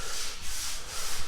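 Steady rhythmic rubbing of sandpaper across a wall inside a house under construction in the Philippines, a close, repeated scratchy stroke heard alone.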